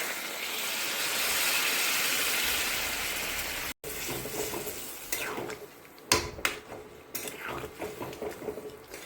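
Jackfruit curry sizzling in a pan gives a loud hiss that drops sharply when water goes in, followed by quieter bubbling with scattered clinks and scrapes of a utensil against the pan.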